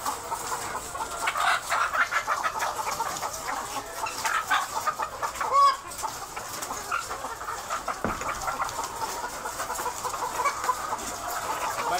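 Gamecocks cluck and chatter around a morning feeding at a farm, a continuous busy flock texture close by, with a brief sharper call standing out midway and a dog faintly present.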